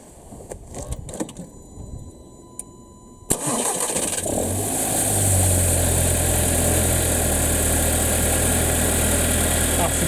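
An Audi A3 2.0T turbo four-cylinder with a newly replaced PCV valve cranks and fires, then settles into a steady, close idle that holds evenly to the end.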